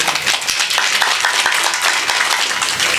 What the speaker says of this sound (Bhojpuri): बात निमन लगे तो ताली चाहो आप लोगों का